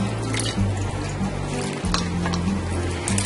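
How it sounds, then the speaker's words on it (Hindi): Water drains from soaked wheat poured through a sieve, a loud, steady splashing rush with a low gurgling undertone that continues throughout without pause, and no voices. "अब हम इसको छन्नी से निकाल लेंगे, इसका पूरा पानी"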